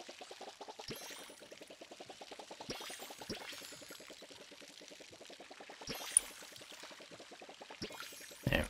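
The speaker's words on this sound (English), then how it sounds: "Looks like our pepper trees, little pepper plants need some water too." Pepper plants are watered in a farming video game, giving a soft, steady pouring trickle with rapid rhythmic pulses and a few faint clicks. It is quiet and heard alone, with no talk.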